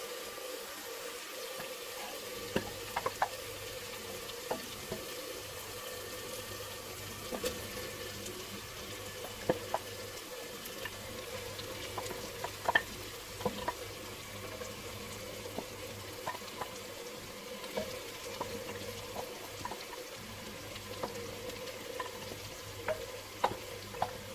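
Chicken frying in a handi with tomato masala, a steady close sizzle broken by scraping and clinking as it is stirred, with irregular knocks of the spoon against the pot.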